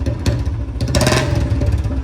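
A serviced Royal Enfield Bullet BS6 motorcycle engine runs close by with a low, even, thumping idle that rises briefly in a short rev.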